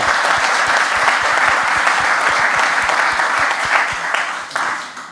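Studio audience applause on a Mulhouse talk show, dense and loud, a steady wash of many hands clapping close by that holds throughout with no talk over it.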